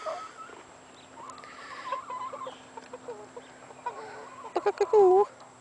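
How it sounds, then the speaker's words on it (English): Backyard hens cluck and bawk as they come out of their coop, with short rising squawks growing louder toward the end while someone talks softly between them. "Come on, silly chickens."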